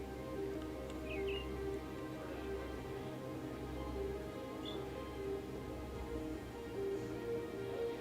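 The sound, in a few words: birds chirping in ambient sound of video game The Great Circle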